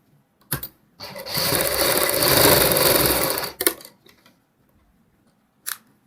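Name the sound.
sewing machine stitching a ready-made saree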